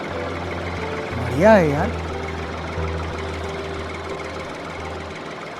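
A Mahindra SP Plus tractor engine runs with a steady low, knocking rumble, while someone speaks briefly over it.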